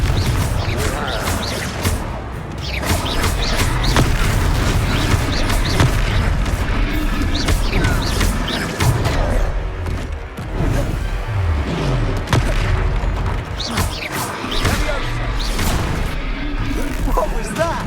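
Confringo blasting-spell explosions in the game Hogwarts Legacy: dense, loud battle with repeated booms and crashing impacts packed close together, mixed with voices and combat noise.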